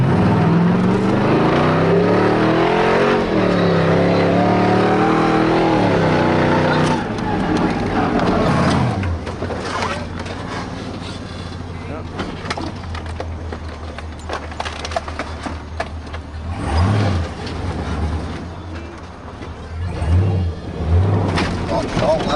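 A monster truck engine roars loud and sustained at full throttle, its deep growl rising and holding close by, while someone talks over it at the start.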